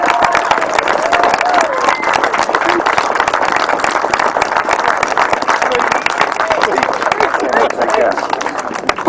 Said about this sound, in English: Big round of applause please for Sean Harvey.